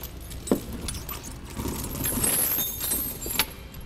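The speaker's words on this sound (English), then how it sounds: "Now we can take our tire chain and drape it over our tire" Snow tire chains with cams are draped over a truck tire on a 2016 Toyota Tacoma, making a jangly metallic rattle with a sharp clink near the start and another near the end, close and moderately loud.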